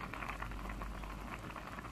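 Misua broth boiling in a pot on the stove, a steady, dense bubbling and popping that stays close and constant with no talking.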